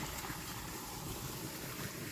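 A mountain stream tumbles down from the hills as a waterfall, giving a continuous broad rushing and splashing of water at steady volume with no voices.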